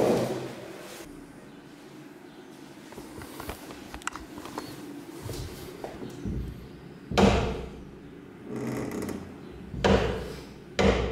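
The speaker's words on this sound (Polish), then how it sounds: "ja słyszałam te drzwi, ale myślałam, że to przeciąg" A wooden door in an old manor house creaks and knocks as it opens and closes, with scattered thuds and clatter amid footstep-like shuffling, several louder bumps toward the end, and no talking.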